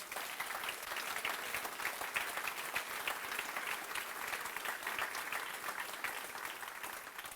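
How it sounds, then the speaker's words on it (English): Sustained audience applause at Hamilton's 2021 State of the City address, a steady dense patter of many hands clapping that holds at an even level throughout with no talk over it. "So give him a huge round of applause."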